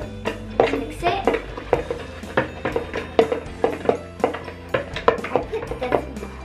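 A mixing tool stirring and clacking in a container of slime, a run of quick irregular taps and scrapes up close while someone talks over it.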